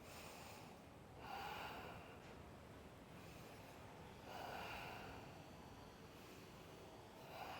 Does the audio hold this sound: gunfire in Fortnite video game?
no